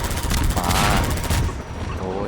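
Rapid bursts of gunfire in Half-Life 2, loud and continuous, with a voice speaking over the shooting.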